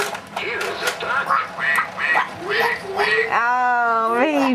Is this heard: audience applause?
no